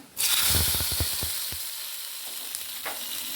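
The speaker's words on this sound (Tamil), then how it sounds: "கடாய் வச்சு எண்ணெய் ஊற்றிருக்குறேங்க. கடுகு போட்டுக்கலாம்." Mustard seeds and dried red chillies hit hot oil in a kadai, setting off a loud, close sizzle that bursts in abruptly, crackles with quick pops early on, then settles into a steady hiss.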